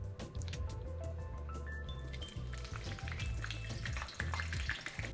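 Food frying in a deep fryer basket gives a steady, dense sizzle and bubbling, with a low mechanical hum running underneath throughout and no voices.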